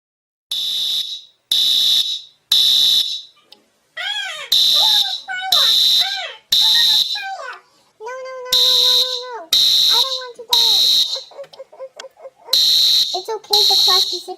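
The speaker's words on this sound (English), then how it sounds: "Who put the fire alarm on?" A school fire alarm blares in repeated loud buzzing pulses, roughly one per second with short gaps, while children's voices shout and chatter between and over the bursts.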